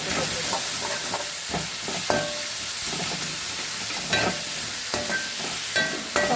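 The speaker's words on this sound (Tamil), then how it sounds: "உப்பு போட்டுட்டோன்னா சீக்கிரமாக வதங்கிடும்." Vegetables salted and sautéing in a pan for a home-cooked meal with sambar, a continuous loud sizzle with repeated scraping and clanking of a spoon stirring, close up and without speech.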